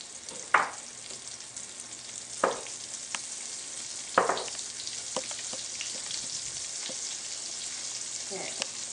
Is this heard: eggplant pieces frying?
yes